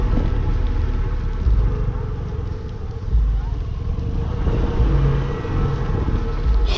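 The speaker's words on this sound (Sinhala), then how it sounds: "එන්ජින් එකටත් වතුර යනවා බා" A motorcycle engine runs steadily close by as the bike pushes through water on a rough mountain road near Bogawanthalawa, a continuous rumble with a few louder surges and voices talking over it.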